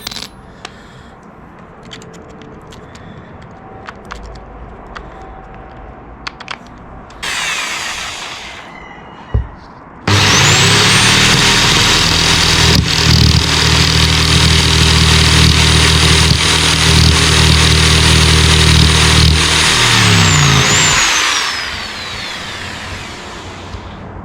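Power saw with a metal blade cutting plexiglass, a loud sustained high whine for about ten seconds after scattered clicks and short bursts, then winding down into quiet handling noises.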